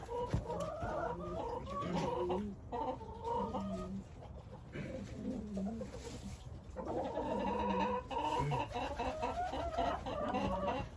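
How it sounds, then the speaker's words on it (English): A Buff Orpington hen clucks and murmurs close by in short repeated bursts, with softer chicken sounds and a brief quieter pause in the middle. "She is a buff Orpington. These guys are pretty common."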